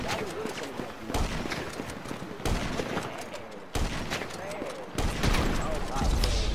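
Gunfire in GTA 5 Online arrives as a series of loud, crackling volleys roughly every second or so, each burst dense with overlapping shots.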